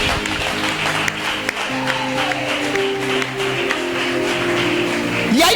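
Church congregation applauding and acclaiming Jesus during a Sunday service, a steady wash of clapping and voices that holds at an even level, with music beneath and a sharper swell near the end.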